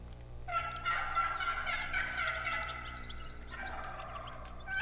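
Wild turkeys in the Silver Ridge Peaks gobble loudly and close by, one long rattling gobble running into a second burst, with no voices over them.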